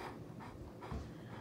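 A tired dog pants close by in quick, steady breaths, soft and rhythmic, alone for a second and a half.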